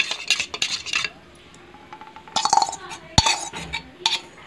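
A metal spoon works through bean dosa batter in a bowl, giving rapid close clinks and scrapes against the bowl in irregular bursts, with a short pause midway.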